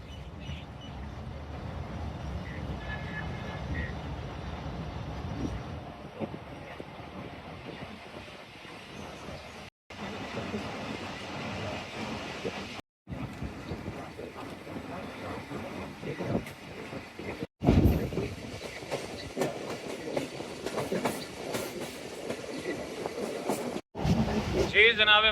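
A Tezgam Express passenger train runs on rails after departing Okara station, giving a continuous close rumble with wheel clatter and several abrupt brief breaks across the stretch.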